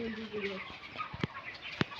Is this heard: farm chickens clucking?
yes